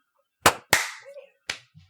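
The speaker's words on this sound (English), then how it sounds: "Let's all clap on the 1" A group clapping hands together in three sharp, separate claps with uneven spacing, close and fairly loud, followed by a faint trailing clap.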